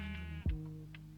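A single short, faint Minecraft sheep bleat sounds over soft, sustained background music.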